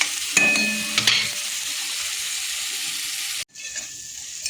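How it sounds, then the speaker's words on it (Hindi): Tomato and onion with turmeric fry in a pan, a steady close sizzle with a few clinks of a utensil early on, then a brief drop before the hiss resumes. "हलदी दे टमाटो पियाज को बागेकि भाजीदे पूरा टमाटो नरम है जाके"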